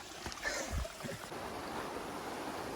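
Trail-side mountain stream along the Pacific Crest Trail between Packwood and Snoqualmie Pass, a soft steady wash of flowing water with a brief close knock near the start, faint and continuous.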